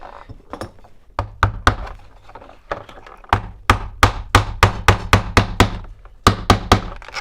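Small nails are hammered into a mini plastic honeycomb frame for beekeeping, a close series of sharp, rhythmic taps in quick clusters, some light and some heavier, with short pauses between runs.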